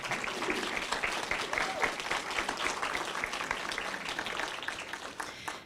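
Steady audience applause at an evening community speaker series event, dense sustained clapping from a crowd that holds even for several seconds and tapers slightly at the end.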